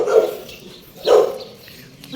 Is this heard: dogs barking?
yes